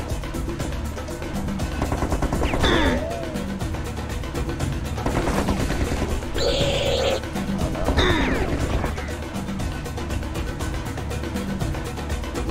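Gunfire in Serious Sam HD: The First Encounter rattles in rapid, steady streams with crashing impacts and occasional sliding weapon tones, loud and continuous throughout.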